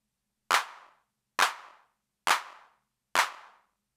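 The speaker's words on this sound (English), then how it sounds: "Clap." Behringer RD-6 drum machine clap played four times at a steady interval, each a snappy, noisy hand-clap burst with a short smeared tail, alone and moderately quiet.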